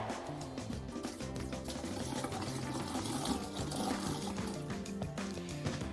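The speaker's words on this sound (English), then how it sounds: "we're going to want to pour just a cup of antifreeze down into the sink to fill up this P-trap" A cup of antifreeze poured down a camper sink to fill the P-trap, gurgling and splashing steadily into the drain, close up with no talking.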